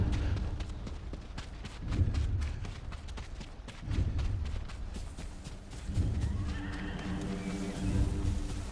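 A horse neighs in the video game Ghost of Tsushima, with repeated whinnies over a busy game soundscape of hoof thumps and ambient music, loud and close.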